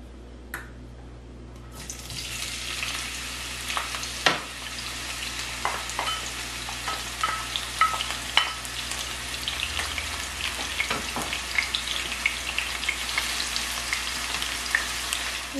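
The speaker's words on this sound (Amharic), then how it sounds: "አሁን ትንሽ ዘይት አድርጌያለሁ እዚህ ላይ፣ እሱ ሞቆልኛል። ሽንኩርቴን ጨምራለሁ ማለት ነው።" Onions hit hot oil in a pan and crackle into a steady, dense sizzle, with occasional clinks and scrapes of stirring over the continuous frying for an Ethiopian vegetable dish.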